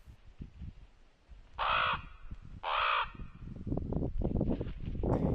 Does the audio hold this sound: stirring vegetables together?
no